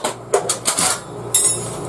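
A two-pound claw hammer being picked up and handled, bought to drive 30 cm tent pegs at a campsite, gives a few sharp knocks and scrapes of metal against wood, close and fairly quiet, with no voices.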